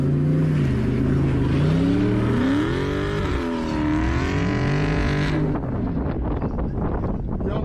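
Dodge Charger, a Hellcat or Scat Pack, revving hard and accelerating on snow with wheelspin, loud close engine note rising and falling with wind buffeting, then cutting off abruptly to quieter rumbling near the end.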